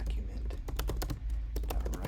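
Code being typed on a computer keyboard during a JavaScript lesson: rapid, uneven clicks of keys pressed close up over a steady low room hum, with no voice heard.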